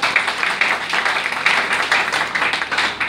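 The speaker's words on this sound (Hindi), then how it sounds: "उनके लिए भी जोरदार तालियां।" Loud, sustained applause from an audience at a business talk, dense crisp clapping with slight surges in rhythm, filling the whole stretch with no talk over it.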